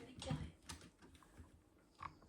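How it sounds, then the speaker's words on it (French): A pig in a video game grunts in a few short oinks, the loudest near the start and another near the end, fairly close and over faint background game noise. "Il y a un cochon."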